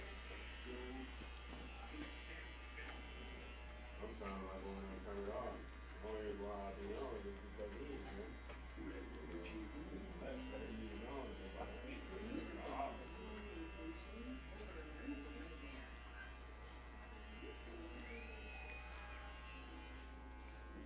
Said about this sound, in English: Slowly close your clipper again as you go down.